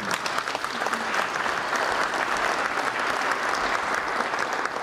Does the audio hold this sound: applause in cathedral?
yes